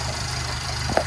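A 1985 Dodge Aries wagon's 2.2 liter engine with a Weber carburetor idles steadily, a low, even putter that runs without a break throughout, with one brief sharper tick near the end.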